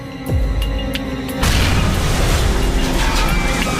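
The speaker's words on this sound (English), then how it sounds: "The explosion on board cripples the flight control system." A bomb explodes aboard an aircraft in flight: a sudden deep boom at about one and a half seconds swells into a loud, sustained roaring rumble with crackling debris noise that carries on to the end.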